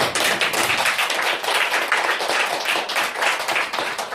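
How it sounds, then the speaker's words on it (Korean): A room of trainees claps together in dense, continuous applause, loud and close, with no voices over it. "저 말이 맞다라고 생각하면 박수 한번 쳐보세요"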